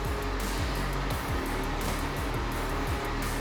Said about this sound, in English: of course the heater turns on